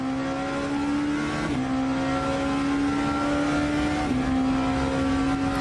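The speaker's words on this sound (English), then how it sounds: "Just having a listen to the engine noises and all the various inputs that are going in, gear changing, brakes." A race car engine in a Le Mans Virtual Series sim race at Bahrain drones loudly and steadily throughout, with its pitch stepping down abruptly twice at gear changes.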